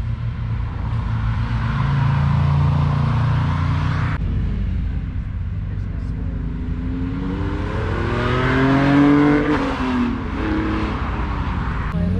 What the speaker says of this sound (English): Little Subi coming through.